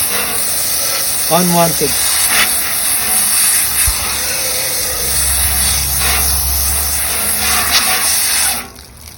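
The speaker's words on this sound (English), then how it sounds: "when I have a jet on it, it will actually take the scales right off" A water jet sprays steadily over a salmon to strip its scales, a constant close hiss that runs for several seconds before cutting off abruptly, with a brief spoken word early on.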